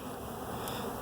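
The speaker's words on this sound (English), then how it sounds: "Hear the buzzing." Honey bees in a swarm being captured give off a dense, continuous buzzing, close and fairly loud, with no voices.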